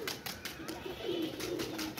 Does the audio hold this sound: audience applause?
no